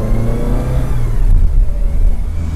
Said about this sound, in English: We'll run it through the gears here.